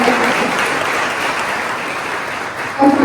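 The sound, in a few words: audience applause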